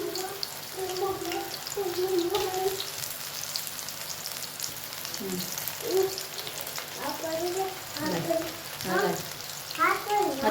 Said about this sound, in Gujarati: તો આપણે આવી રીતે બધા પકોડા આપણે તળી લઈએ